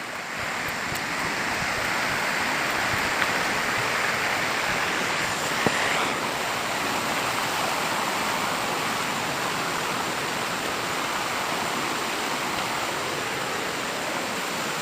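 Rushing water at the Taipa waterfall in Tompobulu, Maros, roars as a loud, continuous broadband wash from start to finish, with no voices over it.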